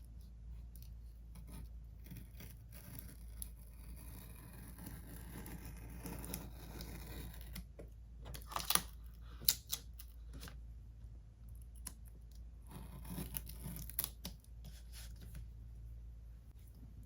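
X-Acto knife slicing along the spine of a Little Golden Book on a cutting mat, faint scraping and scratching strokes that grow into clearer short cuts midway, quiet and close, with no talking.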